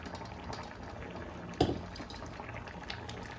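Drumstick leaf sambar bubbles quietly in a pot, a faint continuous simmer with one brief clink partway through.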